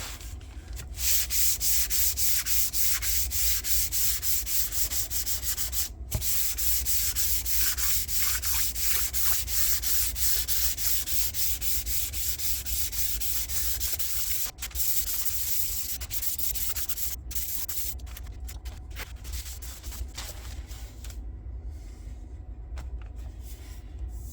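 Northern ash guitar body being hand-sanded with fine 400 grit sandpaper, a steady continuous scratchy rubbing that stays loud and close throughout with brief pauses, no talking.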